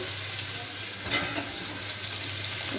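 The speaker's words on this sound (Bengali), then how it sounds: "এখন এই যে মাছটা ভেজে নিচ্ছি" Hilsa fish fries lightly in a pan with a steady, close sizzle that holds evenly throughout, with one brief louder crackle midway and no voices.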